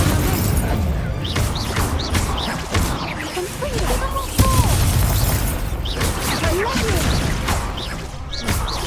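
Fire spell blasts and crashing combat effects from Hogwarts Legacy, loud and dense with game music and chirping effects underneath, while a voice speaks over the action.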